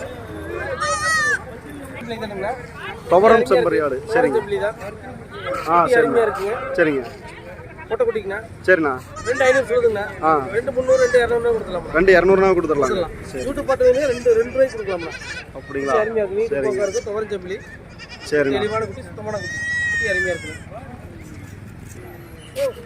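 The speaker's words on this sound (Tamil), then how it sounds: "மயிலம்பாடி ஆடு மயிலம்பாடி சரிங்க தெளிவாக இருக்குது அருமையாக இருக்குது குட்டி" Mayilambadi goat kids bleat repeatedly at a busy goat market in Moonampalli, with close, overlapping cries over steady crowd chatter and people talking nearby.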